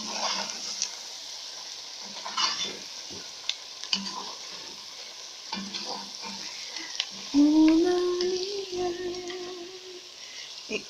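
Chicken being stirred with a spoonful of flour in a hot pan for chicken cooked in blonde beer, a continuous sizzle broken by repeated scraping and stirring knocks, close and moderately loud, with no talking.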